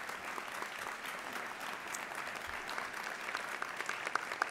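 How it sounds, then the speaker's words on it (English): An audience at a public policy event gives a sustained round of applause, dense steady clapping throughout with a few sharper claps standing out. "Round of applause for Dr. Lauren Anke."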